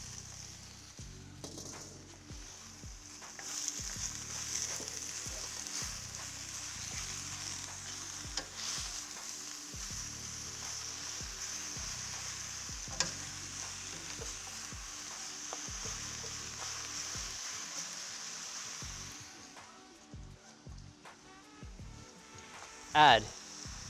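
Beef and bok choy stir-fry over high heat with a steady sizzle, frequent scraping and tossing clatter, and a louder clank near the end; a voice talks at times over the cooking.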